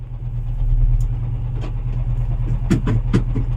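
A Mahindra Jeeto Plus mini truck idles in neutral while shaking, a loud steady low engine rumble close by, with a few brief knocks and clatters near the end.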